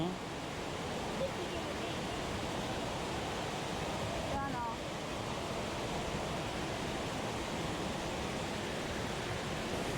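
Tirathgarh Waterfall in Chhattisgarh roars as a steady, dense rush of falling water, constant and fairly distant, with no talk over it.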